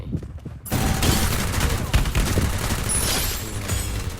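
Loud continuous gunfire in the Free Fire mobile video game, a dense burst of rapid shots starting abruptly after a quiet moment, with a voice talking faintly under it.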